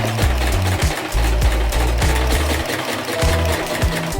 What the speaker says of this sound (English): I'm gonna pin the waistband to the skirt and then I will sew.